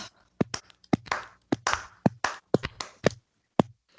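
A person claps by hand in a slow, uneven rhythm, with about a dozen sharp close claps spaced a few tenths of a second apart and no talking.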